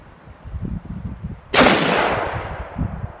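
A single loud rifle shot of M193 55 grain full metal jacket ammo from a custom infantry automatic weapon style upper receiver rings out midway, with a sharp crack and long decaying echo over a low outdoor rumble.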